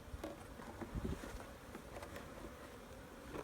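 Honey bees buzzing at an opened nucleus hive, a dense faint drone of many wings close by with scattered soft taps, and no talk.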